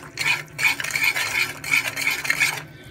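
Jaggery caramelizing in a pan on low flame for peanut chikki, stirred with a metal spoon in rapid rhythmic scrapes against the pan, close and clear with a faint sizzle beneath.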